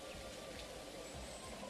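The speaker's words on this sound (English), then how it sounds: "There is still the sound of the rain," Steady rain ambience from a weather system in an Unreal Engine MMO game, a soft, even hiss of falling drops that continues throughout at low level with no talk.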